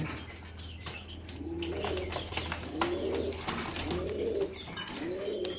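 Young long-distance racing pigeons in a loft coo in a slow, repeated rhythm of about four soft, rolling calls, set over a steady low hum, with occasional wing rustles.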